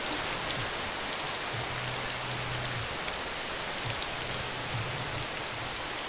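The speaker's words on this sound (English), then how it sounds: "It's raining on this server." Steady rain pouring down in the survival video game DayZ Standalone, a dense continuous hiss with faint low hum beneath and no voices.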